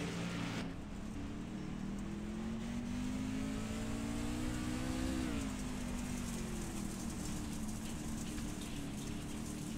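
Race trucks from a NASCAR Truck Series event run on the dirt oval at Lanier National Speedway, engines droning steadily loud with a rising and falling pitch as they power through the turns, no voices over the roar.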